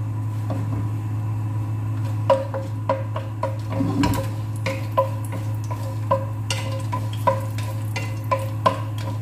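A cinnamon stick cooking in hot oil for a prawn and green mango curry, with a steady low hum under it, soft crackling, and scattered clicks and taps from stirring, up close and with no voices.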